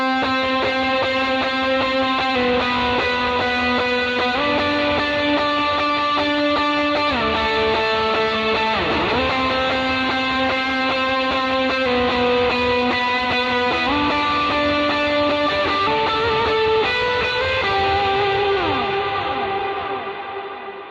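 Electric guitar run through overdrive, delay and reverb, playing a sustained octave line with echoing repeats and a long reverb tail, loud and alone with no talking, fading at the end.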